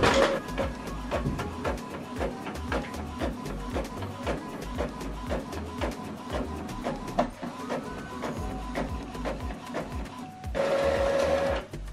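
An Epson XP-3200 inkjet printer runs a test page, its print head shuttling in a steady train of rapid mechanical ticks and whirs, close and moderately loud, ending in a louder whirring feed at the end.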